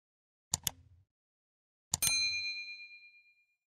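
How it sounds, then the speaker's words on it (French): A notification bell chimes twice, first a short muted tap, then a bright, close ding that rings out and fades over about a second and a half in otherwise silent surroundings. "activer la cloche de notification"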